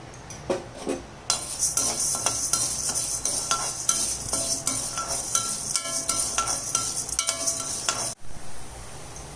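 Urad dal frying in a little oil in a kadai while it is stirred, with scraping and clinking of a utensil against the pan over a continuous sizzle, loud and close.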